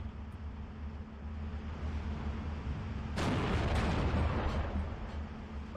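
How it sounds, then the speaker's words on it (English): Artillery barrage in Steel Division 2, a steady low rumble of distant fire that swells into a loud burst of explosive impacts partway through, then rolls on heavily to the end. "Artillery fire's coming in as well."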